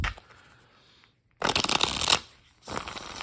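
Older Kem plastic playing cards are shuffled in two crisp riffle bursts, each a dense, loud flutter of flicking card edges separated by a short quiet gap, with softer handling noise at the start.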